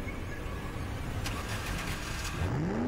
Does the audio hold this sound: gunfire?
no